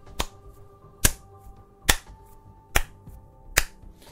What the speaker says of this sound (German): Mein Klatschen werde ich gleich noch begründen.